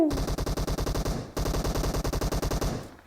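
Rapid bursts of automatic gunfire in PUBG Mobile, a steady rattling stream that stops briefly, then resumes loud and close before fading out.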